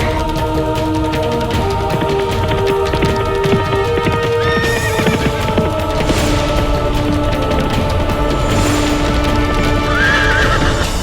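An agitated horse neighs shrilly several times while its hooves stamp and clop in a busy rhythm, loud and close throughout against a dense background, with no talk.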